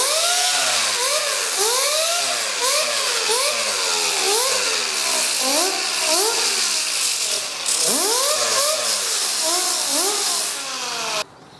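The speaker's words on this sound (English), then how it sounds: "little disc sander here, so that I could just polish up the rotor" A small disc sander polishes an induction motor rotor, its motor whining and hissing as the pitch swoops up and down repeatedly with changing pressure, loud and close throughout.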